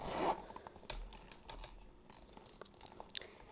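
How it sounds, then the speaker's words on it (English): A Prada travel crossbody bag being zipped shut, giving a short series of close, quiet scratchy zipper rasps with small clicks, with no talking. "And then when I zip up this bag,"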